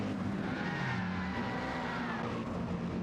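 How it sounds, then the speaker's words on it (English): In the racing video game Gran Turismo 7, GT3 cars at Suzuka roar and whine continuously, with a high screech of tyres skidding mixed into the engine noise throughout. "I can hear tyres squealing from a different car"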